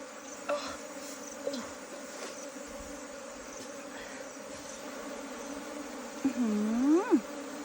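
Ground-nesting bees buzz during the digging out of a large wild nest, a steady low insect hum running throughout with a louder, rising buzz near the end as bees come close.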